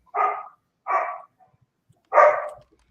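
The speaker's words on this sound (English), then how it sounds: "Sounds like a dog when you pull the trigger." Three short, loud barks from a dog in a tabletop Fallout 2d20 game, spaced with a pause before the third, with nothing else sounding between them.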